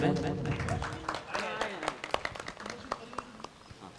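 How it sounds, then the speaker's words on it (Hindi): An audience at a Jain religious discourse breaks into applause that starts under a speaking voice and becomes scattered individual claps, gradually thinning out toward the end. "जोरदार तालियों के साथ में अनुमोदना करें।"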